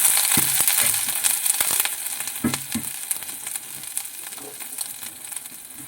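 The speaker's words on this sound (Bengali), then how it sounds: "শুকনো শুকনো লঙ্কাগুলোকে সামান্য লাল করে নেব" Dry red chillies and dried ginger sizzle in hot oil for a chana dal tempering; a continuous close crackling hiss with a few stirring scrapes and taps, no talking.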